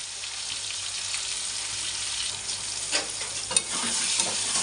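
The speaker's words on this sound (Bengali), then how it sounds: "টমেটো দিয়ে আবার একটু আলুর সাথে ভেজে নেব" Potatoes and tomatoes fry steadily in a pan, a continuous bright sizzle with a few louder crackles and stirring bumps near the end, close and alone.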